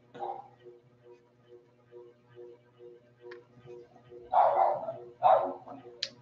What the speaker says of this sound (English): I hear my crazy little dog going fucking ham wild nuts.